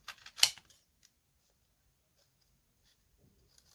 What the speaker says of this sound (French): Donc je coupe avant en gros pour éviter de couper mon carton.